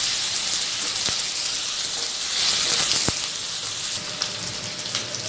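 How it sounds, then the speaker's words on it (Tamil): Four medium-size onions sautéing lightly in a pan for a spicy chutney give off a steady, loud sizzling hiss, with a couple of sharp clicks partway through. "வெங்காயம் லைட்டாக வதங்கட்டும்."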